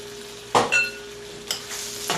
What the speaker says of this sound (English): so this is the vegetable sauteing for me to pour over the fish